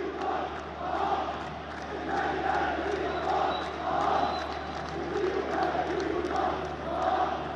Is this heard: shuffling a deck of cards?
no